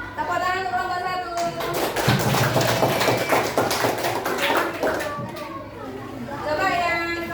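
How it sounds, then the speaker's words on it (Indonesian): A fifth-grade primary school science class claps for a group of classmates: a few seconds of rapid, crowded hand claps from many children, with voices talking before and after the clapping. "Ya, tepuk tangan untuk kelompok satu."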